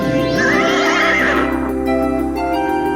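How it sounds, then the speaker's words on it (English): A magnificent winged horse neighs in one loud, close whinny with a rising then falling tremolo, fading over about a second and a half into a steady low background hum. "Before you now stands a magnificent winged horse."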